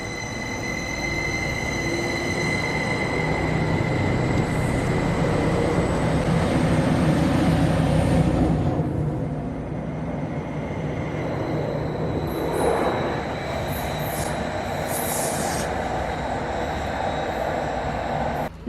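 A Class 755 passenger train bound for Norwich rumbles past close by, its steady roar swelling and fading with faint wheel squeal over about eighteen seconds.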